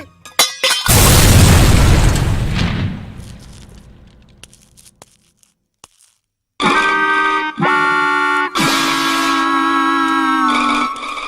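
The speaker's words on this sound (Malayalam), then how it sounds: "അയ്യോ ബോംബ്" A bomb blast in a Malayalam comedy film hits hard and loud, then rolls off into a long decaying rumble. After a short silence, loud horn-like tones blare in steady stretches.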